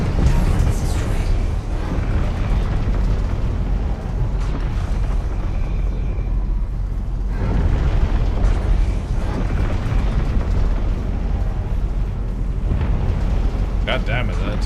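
Loud rumbling explosion as a target is destroyed in a video game, a sustained roaring boom with debris noise, heavy game audio throughout and a voice over it.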